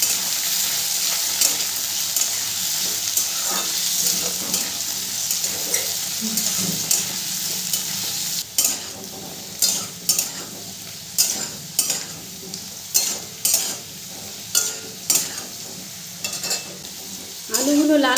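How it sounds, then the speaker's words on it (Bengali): Cut potatoes frying in oil in a pan over a medium gas flame: a continuous sizzling hiss, then repeated clanking stirs from a spatula against the pan at a steady, uneven rhythm. "গ্যাসের ফ্লেমটাকে মিডিয়ামে রেখে আলুগুলোকে আমি ভালো করে ভেজে নেব।"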